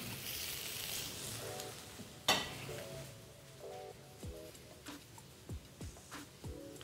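Meatballs, thirteen of them, frying in a pan in a home kitchen, giving a steady low sizzle with occasional clinks of utensils against the pan.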